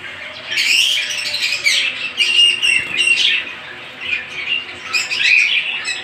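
Exhibition-size English budgerigars chirp and warble in bursts of busy, overlapping calls, close and fairly loud, with brief pauses between the flurries.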